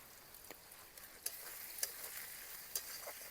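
Chopped onion fries with salt in a pan, a faint continuous sizzle with a few soft spatula scrapes as it is stirred.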